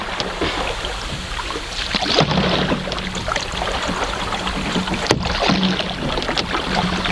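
A solo canoe is paddled upstream through mild rapids on the River Wensum. Rushing water and splashing from the paddle run continuously and close by, with occasional knocks against the hull and some wind.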